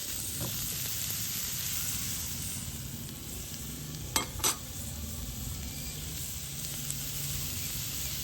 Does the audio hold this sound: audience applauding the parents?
no